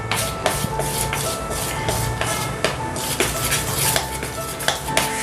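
A spoon clinks and scrapes steadily against a bowl while Eno fruit salt is stirred into semolina idli batter, a regular rhythm of close metallic taps over soft wet mixing sounds.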